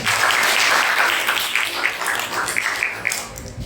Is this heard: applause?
yes